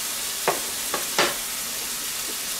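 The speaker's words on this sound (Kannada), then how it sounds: "ಟೊಮೊಟೊ ಸ್ವಲ್ಪ ಬೇಯಬೇಕು" Tomato sauce for pizza cooks in a pan with a steady, quiet sizzle, and three brief scraping stirs cut through it. A fainter fourth scrape follows near the end.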